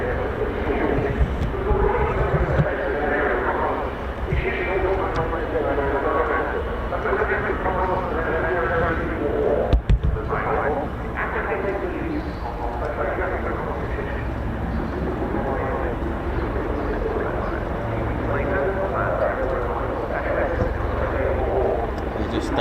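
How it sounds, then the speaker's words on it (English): Rolls-Royce Heritage Spitfires fly at the Royal International Air Tattoo 2025 air show, giving a continuous broad engine rumble and drone that persists under someone talking throughout. "So we've got a couple of Spitfires now from the Rolls-Royce"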